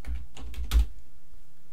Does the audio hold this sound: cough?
no